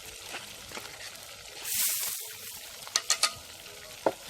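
Frozen mixed vegetables cooking with pasta in a pot, a quiet bubbling simmer with a brief hiss of steam and several sharp clinks and knocks of a utensil against the pot.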